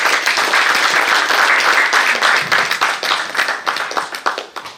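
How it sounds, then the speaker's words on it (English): Dense, loud applause from an audience at a Write Circle literary event in Jaipur fills the air steadily, then thins into scattered individual claps as it dies down. "Can we have a huge round of applause for them"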